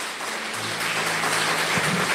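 A church congregation applauds in a dense, steady wash of clapping that swells slightly and fills the room, with a low hum underneath.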